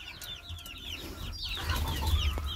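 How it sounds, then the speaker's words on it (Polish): A rooster clucks among farm hens, with several short, soft clucks and chirps scattered over a low background rumble, faint and fairly close. "To jest kogucik?"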